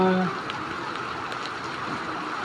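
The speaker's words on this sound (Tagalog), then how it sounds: "May bagyo nga po mga katuda, halos isang linggo na po ang tag-ulan dito." Rain falling during a typhoon after nearly a week of wet-season downpours, a steady broadband hiss that runs unbroken throughout, with a short tonal sound at the very start.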